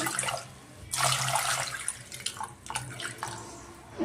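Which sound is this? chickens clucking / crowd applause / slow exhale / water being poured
water being poured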